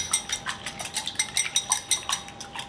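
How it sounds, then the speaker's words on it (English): Eggs being whisked together in a bowl for a honey and ricotta mixture, giving a quick, steady run of light clinking taps of the whisk against the bowl with no talking. "In this bowl I have 3 eggs, which I'm going to whisk together a little bit,"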